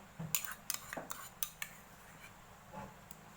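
Canned fish tipped into a pot of Thai red curry, with metal utensils clinking and scraping against the pot in a handful of sharp, close knocks and a brief soft stir.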